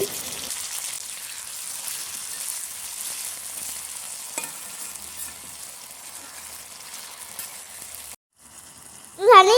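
Potatoes and capsicum fry in ghee and oil with a steady, even sizzle that runs close and fairly loud for several seconds. The sizzle cuts off abruptly near the end before a short, different burst of sound.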